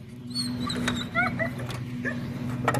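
A dog whimpers and yips in short high whines with a couple of brief barks, close by, over the low steady hum of an engine.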